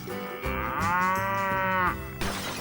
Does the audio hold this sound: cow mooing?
yes